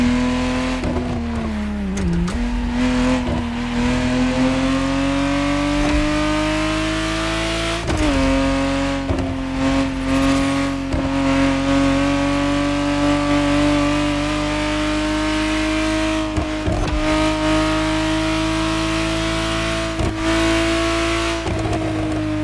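A 1991 Ferrari Testarossa in The Crew Motorfest revs steadily, its engine tone rising and dipping with gear changes and a brief tire squeal, loud and close with no talk over it.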